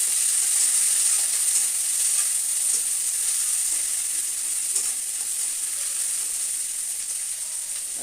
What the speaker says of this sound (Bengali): কাঁচা লঙ্কা আর পেঁয়াজটা একটু ভাজা ভাজা করে নেব।